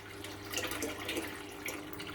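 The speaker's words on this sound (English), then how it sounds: "Hear the air coming out?" Air bubbling and gurgling out of an Allpondsolutions 1400EF aquarium canister filter, a steady watery fizz with small bursts, fairly close and alone.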